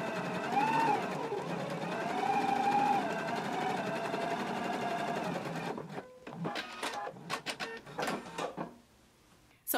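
Sewing machine basting fabric near an inner raw edge, a close, steady mechanical whirr for several seconds, then stopping into a few short stitch bursts and clicks.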